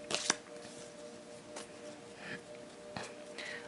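Oracle cards being shuffled by hand, a few soft, separate riffles and taps close up, with a sharper flutter at the start and quiet gaps between.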